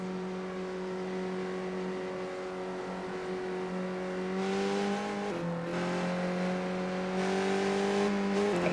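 Skip Barber race cars lap a track, their engines droning in a sustained tonal whine that climbs and shifts in pitch as they accelerate, with no voices.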